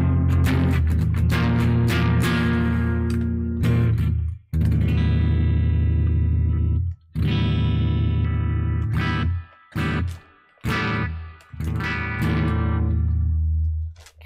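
Electric guitar played through a distortion effects unit after a faulty cable was replaced, loud sustained overdriven chords ringing out with several abrupt stops and restarts, no talking over it.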